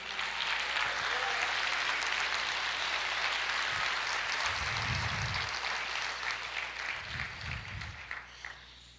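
A church congregation claps steadily during a sermon, a dense wash of applause filling the space, with a few low thumps underneath as it gradually thins.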